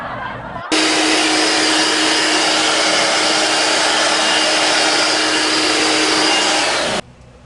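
A loud air blower cleans an LG split-type air conditioner, running steadily for about six seconds with a harsh, constant roar and a low hum, then cuts off abruptly.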